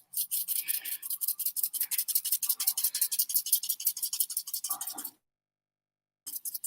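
Dry BBQ rub shaken from a shaker onto pork ribs, a steady run of quick rhythmic rasping shakes for about five seconds, then a short pause before a few more shakes, close and moderately loud with no talking.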